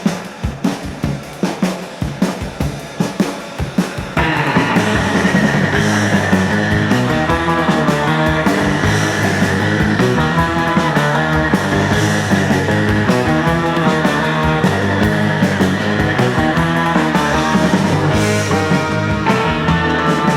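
A song plays loud and dense. A short choppy intro breaks into a full-band section that drives steadily on.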